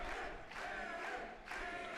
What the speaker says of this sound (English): Crowd a little bit split in their support. The Petey and Cannon chant simultaneous.